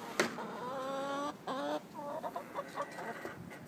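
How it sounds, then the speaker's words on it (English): Several hens cluck and call the egg-laying song close by, rising, stepped calls overlapping in bursts with short breaks between phrases. "Everybody's doing the chicken song right now."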